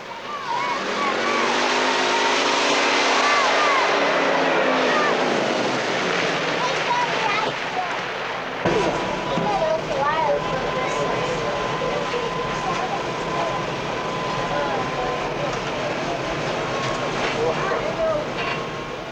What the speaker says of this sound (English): a wonderful old bus rattled and banged through the Arizona desert